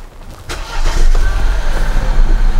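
A BMW 118i engine cranks and catches, settling into a steady, close idle that fills the rest of the recording.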